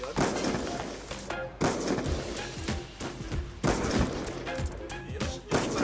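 Gunfire on the Nuketown map in Call of Duty: Black Ops 2 crackles in repeated loud bursts of rapid shots separated by short pauses, close and dominant throughout.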